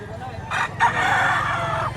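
A rooster crows once at a chicken market in Lipa, Batangas, loud and close, a drawn-out call over faint background noise.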